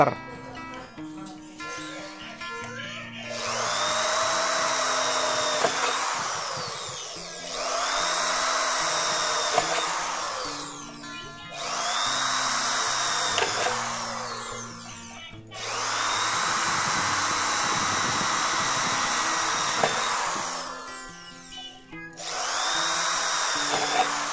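A Toshiba power drill with a 4 mm bit bores into 0.75 mm light steel in four loud whining bursts of several seconds each, separated by short pauses.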